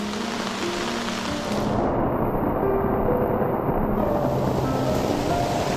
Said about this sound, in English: The rain's picked up. It's coming down even harder now